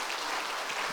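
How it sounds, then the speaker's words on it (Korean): Applause in a church during a Wednesday service: a short, faint burst of scattered hand clapping from the congregation. "우리 중간에 한번 박수 한번 하겠습니다."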